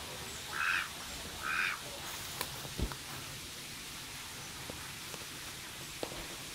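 Mallard ducks give two short, distinct quacks a moment apart over a steady hiss like rain, followed by a few faint clicks and taps.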